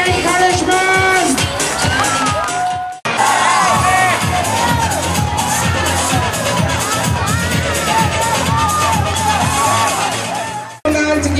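A loud crowd at a children's sports day cheers and shouts continuously, with high children's voices whooping and calling over dense babble, broken by two brief cuts.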